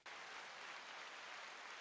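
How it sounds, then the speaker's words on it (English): A burst of crowd applause played as a sound effect on a podcast, a steady wash of clapping that starts abruptly and stays even and fairly faint, with no one talking over it. "I figured I'd get you some people to applaud"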